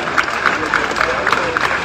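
Supporters applauding at the end of an open Olympique Lyonnais football training session, a fairly faint, distant crowd clapping outdoors with scattered claps standing out, brief and steady.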